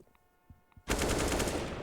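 AK rifle spray in Counter-Strike during a professional ESL Pro League match: after a near-quiet start, a sudden loud, sustained burst of rapid automatic fire runs to the end.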